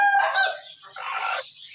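A broody Aseel hen sitting on eggs gives a couple of close, loud, drawn-out clucking calls, clear and alone with no talk.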